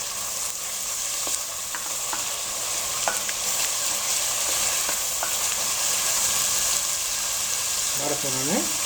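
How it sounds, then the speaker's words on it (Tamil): Ginger garlic paste fries in oil in a pan for Malaysian mutton masala, a continuous sizzle broken by spoon scrapes and clinks against the pan, with a brief voice near the end. "இஞ்சி பூண்டு வாழை போகிற வரைக்கும் தாளிச்சுட்டு"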